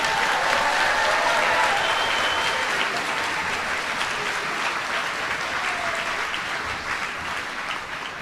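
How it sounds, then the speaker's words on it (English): Sustained audience applause fills the hall at a middle school eighth-grade farewell ceremony, a dense wash of many clapping hands that holds steady and slowly tapers over eight seconds, with faint crowd murmur beneath. "Give them a round of applause."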